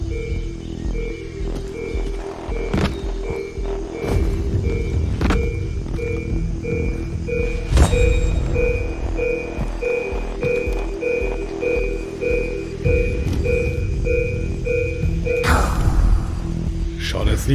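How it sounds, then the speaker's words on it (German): In Far Cry 3, a package scanner gives a run of short, evenly spaced electronic beeps that carry through over rumbling game ambience, occasional thuds and whooshes. "Der Piepton zeigt Entfernung an. Je schneller, desto näher."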